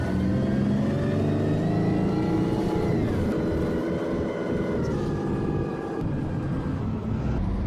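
A bus engine in a driving video game hums and revs steadily, its pitch climbing and dipping as the bus accelerates and shifts, heard up close with no talk.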